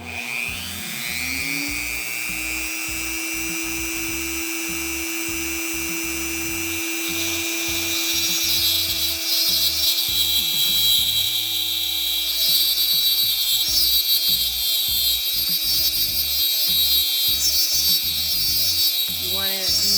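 A high, steady whine of a diamond twist drill grinding into a hard beach rock, running continuously with a rising pitch partway through.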